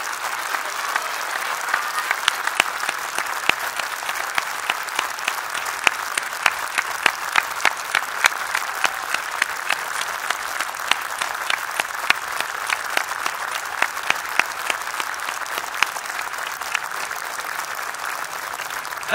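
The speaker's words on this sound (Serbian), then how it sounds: "ja vas molim da jednim snažnim aplauzom kažemo" Sustained applause from an audience at a Serbian patriotic lecture, a dense steady wash of many hands clapping with sharp individual claps popping out, continuing evenly throughout without talk.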